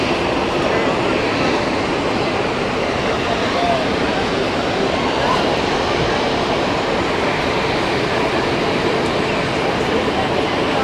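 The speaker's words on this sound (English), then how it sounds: "And there is the A380 taxiing has just landed." An Airbus A380 taxis after landing at Zurich Airport, heard from the observation deck as a dense, steady, unbroken roar that holds at the same level throughout.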